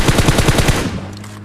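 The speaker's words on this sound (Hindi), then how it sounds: "अपार्टमेंट से हम पे फायरिंग होना शुरू हो गई" An automatic weapon in the PUBG Mobile video game fires a quick burst of about seven punchy shots in steady rhythm, then the sound trails off into a fading echo.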